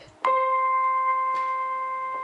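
A piano strikes a C octave once, the two notes ringing out clearly together and sustaining steadily as they slowly fade.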